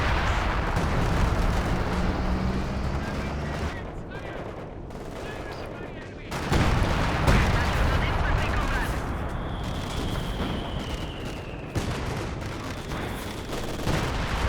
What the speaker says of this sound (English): Manages to throw out some British base artillery. As well as this barrage coming in